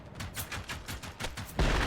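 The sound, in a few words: grenade explosions in the video game Alpine Unrest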